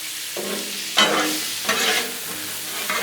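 Shrimp and broccoli sizzle on a Blackstone griddle while a spatula scrapes and tosses them, making loud, close frying hiss broken by three sharp scraping strokes.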